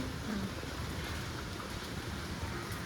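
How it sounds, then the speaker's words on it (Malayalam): Steady rain hisses evenly throughout, a dense continuous wash of drops with no voices. "മഴ കുറഞ്ഞ കേട്ടോ"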